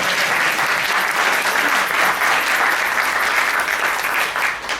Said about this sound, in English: How about a round of applause for our MC for today, Sarah?